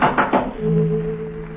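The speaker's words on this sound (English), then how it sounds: "someone knocked at the front door" Three sharp knocks land on a wooden front door on a stormy night in a 1952 radio mystery drama, close and evenly spaced, followed by a low sustained musical tone.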